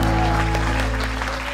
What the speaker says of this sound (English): Let's get another round of applause for this awesome couple.